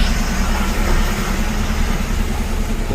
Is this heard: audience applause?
no